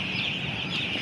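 Seven-day-old chicks on a poultry farm: a dense chorus of high, shrill peeping, near and continuous over a short stretch.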